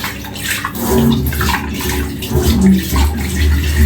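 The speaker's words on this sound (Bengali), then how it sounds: "হাতটা আগে ধুই। আগে ধুয়ে ফেললাম, বাটিটা ধুয়ে এই বাটিতে রেখে দিলাম।" Running tap water splashes loudly and continuously as hands and a bowl are washed in a kitchen, with a steady rushing flow and small clinks of handling close by.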